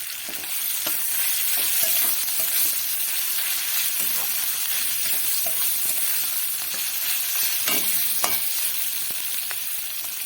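Grated ginger-garlic paste and green chillies frying in oil for a chicken bharta: a constant bright sizzle runs throughout, broken by occasional clinks and scrapes of stirring, close and steady with no talk.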